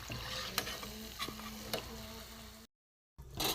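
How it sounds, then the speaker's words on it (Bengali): Raw banana pakoras sizzle in hot oil, a steady close crackle and hiss with a few sharp ticks and a stir, then a brief cut to silence before the frying resumes. "একটু ভেজে ভালো করে লাল করে নেব।"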